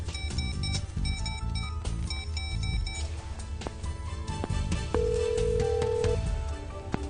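A telephone call is placed with a series of dialing beeps and tones, then a sustained steady ring tone, heard close over a faint background hum.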